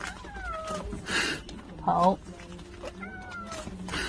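A cat meows a few times, short, rising and falling calls spread across the moment, over people talking nearby.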